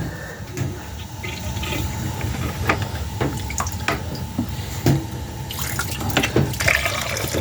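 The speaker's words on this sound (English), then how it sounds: "You just drain it until the water comes out clear." Water drains from a boiler drain valve through a cut-off washing machine hose, a steady close rushing gush with gurgling and splashing that swells toward the end, with no talking.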